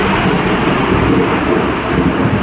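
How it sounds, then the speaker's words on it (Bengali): Loud rumbling thunder rolls through a rainstorm in Rajshahi, a continuous deep roar with steady rain hiss and no voices. "ভিডিও করতে করতে ব্যাপক জোরে মেঘের গর্জন শুনতে পাইলাম"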